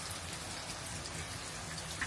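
Rain falls steadily outdoors, a dense, even hiss of drops on surfaces, fairly faint and continuous with no talk.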